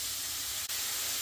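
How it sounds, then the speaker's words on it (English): Beef frying in curry spice powder with salt and pepper for a beef madras: a steady, close sizzling hiss that barely changes, with one tiny break in the middle. "I'm just going to let it fry"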